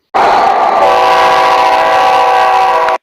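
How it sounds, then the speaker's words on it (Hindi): A loud, sustained train horn sound effect blares steadily for about three seconds and then cuts off abruptly, with no other sounds. "ट्रेन जो है वो हॉर्न देती हुई निकल रही है"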